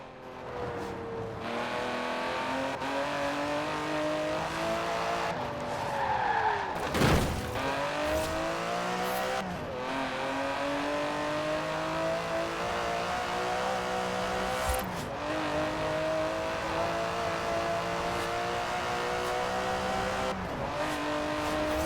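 An Aston Martin DB11 with a 5.2-litre twin-turbo V12 in the racing game Forza Horizon 4 holds a continuous loud engine drone, rising and falling through shifts with a brief sharp swell midway, and no voices.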